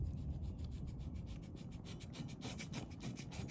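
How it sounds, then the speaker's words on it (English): Steady, continuous scraping of old finish off a wooden coffee table, a dense rough rasping texture with rhythmic strokes that grow slightly brighter toward the end, close and even, with no talk. "So I'm gonna try to scrape some of that."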